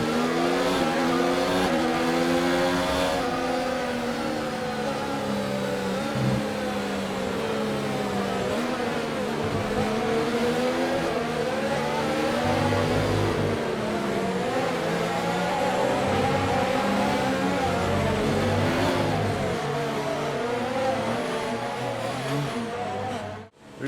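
Formula 1 race car on an in-lap at Abu Dhabi's Yas Marina circuit in F1 2019, its engine holding a steady, loud whine that rises and falls with the throttle, sustained throughout with no talk.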